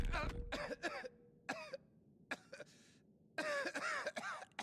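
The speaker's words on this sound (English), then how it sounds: "Cough, which means some sort of illness or sickness inside" A character in the animated series To Be Hero X coughs, a string of short, harsh, separate bursts with brief pauses between them, sounding fairly close and dry against a quiet background.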